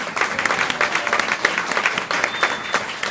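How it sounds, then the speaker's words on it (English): Crowd at a Roe v. Wade anniversary celebration giving a round of applause, a loud, close, continuous clatter of many hands clapping with slight rhythmic swells throughout. "So let's give another round of applause for Donna"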